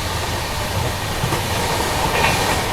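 Passenger train running on an Indian railway line, a steady loud rumble and hiss of rolling wheels heard from close by, with no voices.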